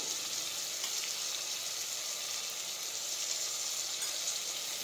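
Cumin, turmeric and chutney sizzle steadily in hot oil for a mixed vegetable sabji, a constant bright, crackling hiss close by with no voices.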